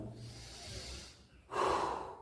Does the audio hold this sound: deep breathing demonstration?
yes